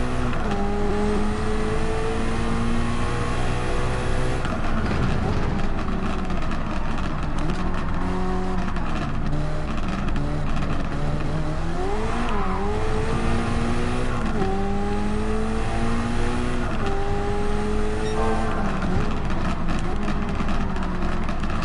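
Race car driven hard in Gran Turismo 7, a loud continuous engine howl rising and dropping through gear shifts and revs, with brief tire squeal, up close and alone.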